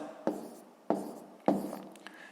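Pen writing figures on paper while working a long division of 220 by 17, heard as three distinct scratchy strokes, each a sharp onset followed by a short fading scrawl, close and fairly quiet with no talking.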